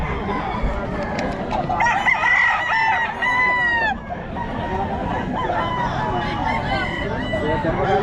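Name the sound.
chickens and roosters crowing at poultry market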